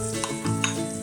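Nuts sizzle and rattle as they are tossed in a hot tagine for a Moroccan dish, a brief burst of frying crackle with a few scraping stirs.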